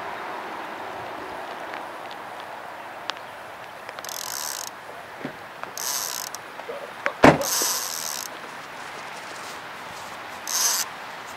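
A fishing reel's clicker ratchets off while bass fishing, a sharp burst of rapid clicks near the middle amid quiet outdoor ambience, with a few other faint clicks and rustles before and after.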